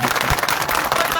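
Loud, dense clapping from a large crowd applauding the chief minister at a public gathering, a brief burst of sharp claps with noisy cheering mixed in.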